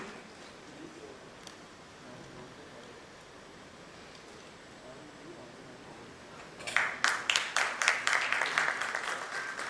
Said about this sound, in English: And let's also have a louder round of applause for Mr. Ashu Khanna.